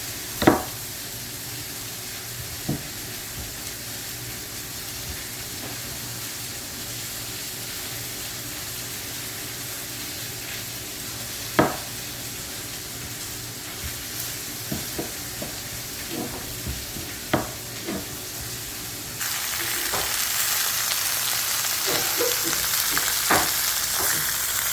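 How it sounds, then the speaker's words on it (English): Meat searing in a hot pan, a steady loud sizzle with scattered clinks and scrapes of a utensil, the frying hiss swelling brighter and denser toward the end. "So we're just going to get this seared and brown on one side"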